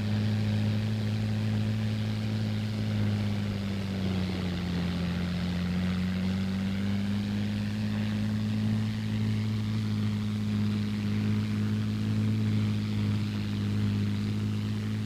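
An experimental Army ground effect machine, the flying donut, runs with a tail propeller, giving a loud, steady engine and propeller drone with a low hum that dips briefly in pitch, continuous and unbroken throughout.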